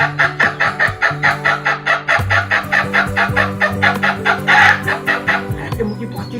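A mimicry artist's voice imitates frightened chickens escaping from a crate, a rapid run of loud clucks and squawks that rises into a strained, crowing-like cry toward the end.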